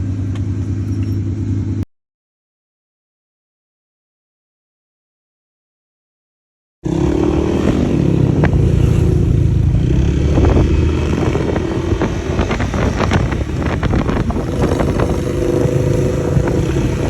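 Motor scooter engine running steadily while riding, loud and close with broadband road and wind roar, after a brief silent gap at the start.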